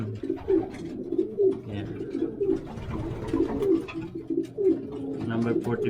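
Pigeon cooing, repeated low rhythmic coos at close range under a man's speech while he handles the bird during chick selection for colony breeding.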